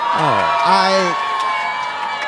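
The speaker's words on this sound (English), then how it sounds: "Why is there such a big cheer for that?" Live comedy show audience in Minneapolis erupts into loud cheering and whooping, with a voice shouting over the top at the start before the crowd noise settles into a sustained, slowly fading roar.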